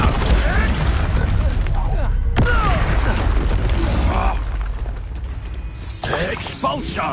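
Hogwarts Legacy combat with Expulso explosion spells is heard as repeated magical blasts and pops over clanking mechanical effects and busy game noise, with loud dense action throughout.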